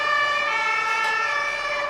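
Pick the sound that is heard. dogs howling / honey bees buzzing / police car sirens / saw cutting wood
police car sirens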